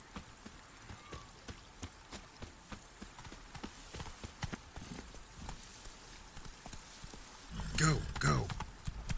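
Hooves of the horse Roach in The Witcher 3 clip-clop in a steady walking rhythm, faint and close, before a louder burst of galloping and a short whinny near the end, with a voice speaking briefly over it.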